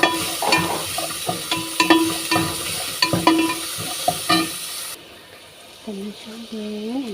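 Ingredients being stirred into a pan of cooking fish with herbs, a close sizzle with repeated scraping and tapping stirs for about five seconds, after which the sizzle drops away and a voice speaks.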